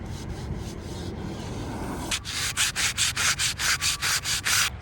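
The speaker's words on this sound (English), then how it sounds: "I'm gonna sand all of those out." Car wheels from an R32 GT-R being hand sanded with 600-grit sandpaper in a parking lot: a steady scratchy rub gives way to quick, regular back-and-forth strokes, close and loud.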